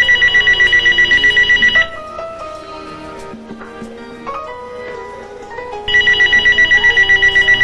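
A telephone bell rings in a steady, repeated pattern, stops for a few seconds while a quieter tonal background plays, then starts ringing again, loud and close.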